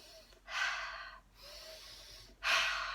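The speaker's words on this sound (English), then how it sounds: "It's simply breathing in, breathing out." Deep breathing exercise: slow, audible breaths in and out, three long airy breaths, close and quiet with no talk.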